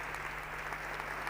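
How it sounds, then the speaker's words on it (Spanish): Soft, distant applause from an audience at a business talk welcoming a speaker, a brief even patter of clapping over a steady low hum. "un gran aplaudiment per ell"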